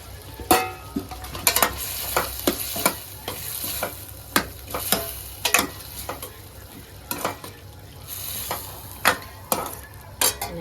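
A spoon stirs a papaya vegetable dish with grated coconut in a pan, giving repeated scraping clinks at an uneven rhythm over a soft, steady sizzle, close and fairly loud with no talking.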